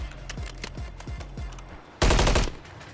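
Gunfire in the video game Call of Duty: Warzone: a run of evenly spaced single shots with booming low tails, then a sudden loud burst of rapid automatic fire close by.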